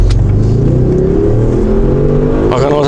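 Audi S6 C7 with a 4.0 TFSI engine revving hard in dynamic mode, a loud, sustained rising engine roar heard close up that climbs in pitch throughout, with a brief voice near the end.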